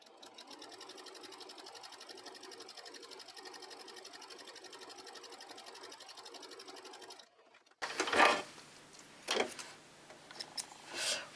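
A sewing machine stitches a diagonal seam in a patchwork block, running as a fast, even mechanical chatter for about seven seconds. It stops abruptly, and louder handling knocks and rustles follow.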